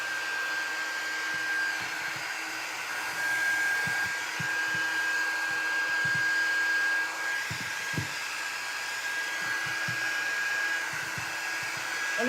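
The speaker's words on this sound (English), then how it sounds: "I'm just going to turn my heat gun." A heat gun blows steadily at close range to soften hot glue strings on wood shim Christmas trees, a continuous airy roar with faint knocks and handling bumps underneath.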